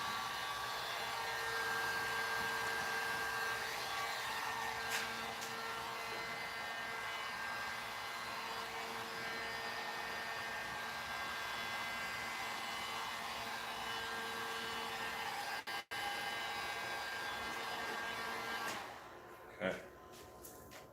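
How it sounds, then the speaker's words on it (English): Heat gun blowing a steady, loud stream of hot air over a tabletop miniature build, running continuously as a broadband hiss before cutting off near the end. "Let's heat gun it. Tightens up."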